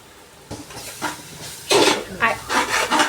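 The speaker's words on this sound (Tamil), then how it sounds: "அடி பிடிச்சிடாமல் இந்த மாதிரி கிளறி விட்டுக்கிட்டே இருக்கணும்" A spoon scrapes and rubs through biryani in a pot in a series of short, rasping strokes that quicken and grow louder, heard up close.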